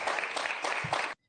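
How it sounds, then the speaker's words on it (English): An audience claps in a brief, fairly faint burst with a few rhythmic swells, then stops abruptly into silence. "And they clapping."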